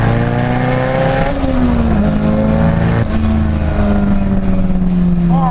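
A Mazda FD RX-7 sports car engine revs hard on boost and climbs through gears, loud and close, with a rising whine and gear shifts, no talk.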